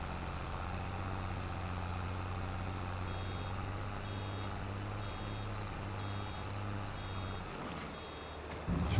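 A vehicle's reversing alarm in Farming Simulator 22 beeps steadily in short, evenly spaced pulses over a low engine hum, then stops near the end.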